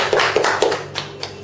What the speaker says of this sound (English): Round of applause for this young lady.